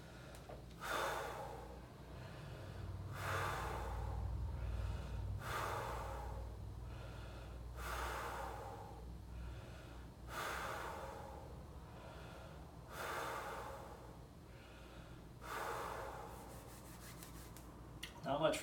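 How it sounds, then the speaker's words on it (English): Deep, rhythmic breathing during a breath-hold exercise, with about eight slow, rasping inhales and exhales repeating evenly at close range, audible over a low hum. "Breathing."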